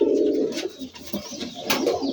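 A pair of green Rajshahi Giribaj pigeons coo close by, a few soft throaty rolling calls with short pauses between them and no voices.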